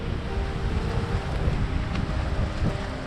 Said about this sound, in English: And the wind really picks up now.